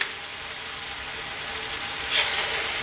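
A creamy salmon pie sauce cooks in a pan under constant stirring, producing a soft, steady sizzle and bubbling that swells slightly near the end, with no talking.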